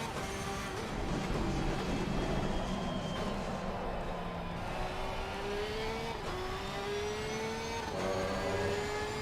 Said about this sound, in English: And happy noises from this Porsche as well.